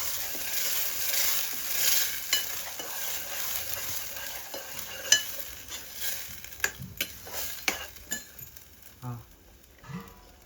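Ground masala paste poured into a hot sizzling tempering for a Malvani-style fish curry, a hissing sizzle that fades as a spoon stirs and scrapes the pot with scattered clinks.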